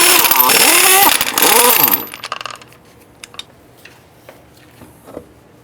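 Wheel nuts coming off a 2005-10 Jeep Grand Cherokee with a 3/4 inch socket on an impact wrench: a loud two-second burst of whirring hammering, followed by quieter clicks and rattles.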